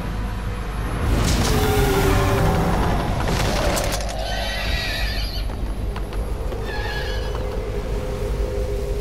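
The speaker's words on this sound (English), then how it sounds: "There's his horse again." A horse in the video game Metal Gear Solid V lets out loud whinnies and neighs, along with some clopping hoof sounds and a few sharp cracks.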